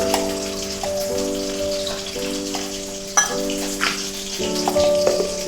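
Cumin and water going into hot oil while cooking a rohu fish curry with yardlong beans and potato, giving a steady crackling sizzle with spitting pops throughout, loud and close, and a sustained tonal hum running underneath.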